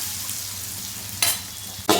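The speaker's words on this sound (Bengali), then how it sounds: "আর আলুটা সামান্য একটু ভেজে নিতে হবে," Potato pieces frying in hot oil with salt and turmeric, a steady soft sizzle in the pan broken by two sharp scraping stirs of a spatula.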